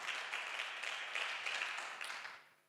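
A church congregation applauding in a steady wash of many hands clapping, moderately distant and fairly quiet, rising in a few bursts before fading out at the end.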